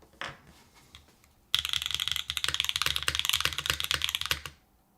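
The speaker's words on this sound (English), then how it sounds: "let's try with the keyboard mat now" Rapid clacky typing on a Float65 mechanical keyboard set on a keyboard mat for about three seconds, dense and close, after a few quieter taps.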